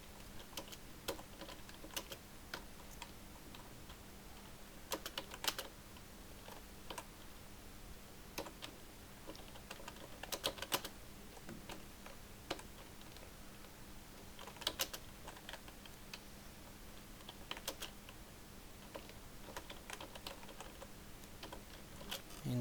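Keys clacking on a computer keyboard while text is entered in a word processor, irregular bursts of close, crisp clicks over a steady low hum, with no voices.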